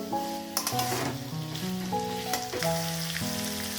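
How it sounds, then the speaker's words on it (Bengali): Figs sauté in a pan for a Bengali fig curry, giving a continuous crackling sizzle with occasional stirring clicks. Steady melodic tones run underneath throughout. "ডুমুরগুলো একটু কষিয়ে দিচ্ছি।"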